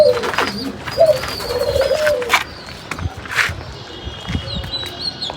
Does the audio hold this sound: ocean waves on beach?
no